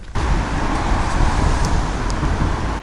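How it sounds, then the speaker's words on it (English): Road traffic rumble as a school bus crosses a bridge over the river into Luxembourg, heard as a steady, fairly loud low drone with wind-like noise and no voices. "Just seen a school bus"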